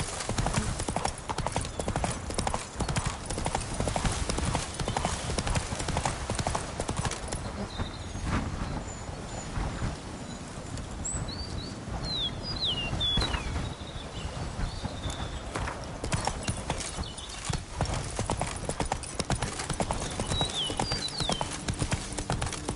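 Roach galloping in The Witcher 3, loud rapid hoofbeats drumming without pause over a busy outdoor game soundscape with a brief whinny, birdsong, and a voice speaking briefly.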